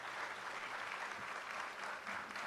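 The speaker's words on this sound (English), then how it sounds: "So give yourselves a round of applause." A crowd at a New York Future Farmers of America 100th anniversary celebration applauds, steady continuous clapping that is faint and distant throughout the short stretch.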